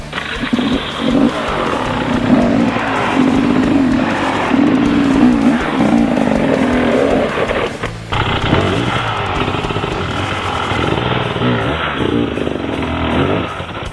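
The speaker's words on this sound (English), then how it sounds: "you'll find that the bike will get traction and it'll want to climb up the rock" Off-road motorcycle engine revving loud and close as the bike grips a rock and climbs onto it, a steady roar that shifts in pitch partway through.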